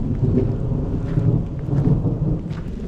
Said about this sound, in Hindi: बारिश फ़िलहाल तेज़ हो गई है